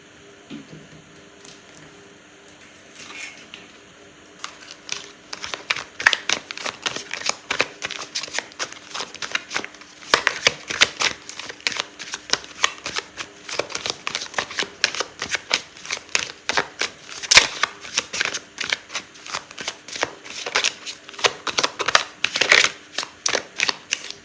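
Tarot cards shuffled close up during a reading, with quiet handling at first and then a long run of rapid, crisp riffling and slapping bursts in uneven rhythm.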